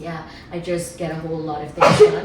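A single sharp sneeze bursts out near the end, loud and close, following a stretch of someone talking.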